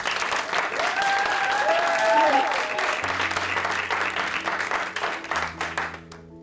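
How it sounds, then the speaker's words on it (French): An audience at an eloquence competition claps loudly for a speaker, applause swelling then thinning out, with voices and a held tone heard beneath it as it fades. "Un tonnerre d'applaudissements pour Tom"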